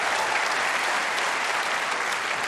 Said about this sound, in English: Are they going to keep the applause going while he's clearing up?